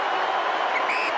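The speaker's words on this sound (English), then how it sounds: "here's the applause for Pendlebury" Football crowd applauding a Collingwood player at an AFL match against Carlton, a steady broad wash of clapping and cheering that holds throughout at an even, moderate level with no talk over it.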